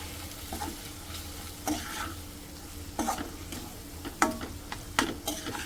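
Kashmiri chili powder and coriander powder being stirred in a frying pan for veg biryani: a soft sizzle runs underneath while a spoon scrapes through in distinct strokes roughly every second, close and moderately loud.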